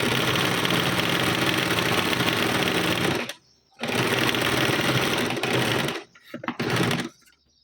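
A sewing machine runs steadily while stitching a tucked blouse hem, with close, continuous whirring, one short stop about three seconds in, then a final burst broken by brief pauses near the end.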